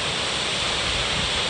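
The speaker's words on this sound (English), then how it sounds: "it's pretty cool to see such a big waterfall right in my backyard" Big waterfall beside the Kern River, a steady broadband roar of falling water filling the whole clip, dense and constant with no pauses and no voices.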